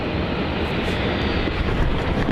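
Aircraft at Melbourne Airport, a loud, steady engine roar filling the whole clip as a broad, constant rush with no pauses, heard alone without voices.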